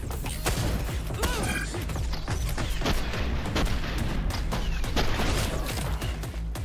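Rapid gunfire in the shooter game SPRAWL, dense bursts of shots and impacts layered with mechanical clatter, loud and continuous throughout.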